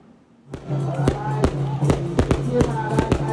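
After a brief quiet moment, a rapid string of sharp firecracker bangs pops irregularly over a busy, cheering crowd din at a temple folk festival procession in Chiayi, Taiwan.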